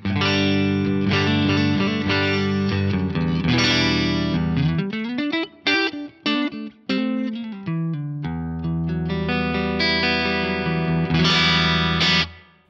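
Clean tone from a Fender Stratocaster neck pickup through plate reverb, sustained chords and single notes ringing out bright and sparkly, with a short broken run in the middle and a final chord fading away.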